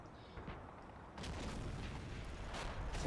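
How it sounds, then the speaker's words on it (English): Low booming mortar and artillery fire in a war strategy game (Combat Mission), rumbling continuously with a couple of heavier thuds and a rise in intensity partway through, no talking. "Is that more mortar firing perhaps?"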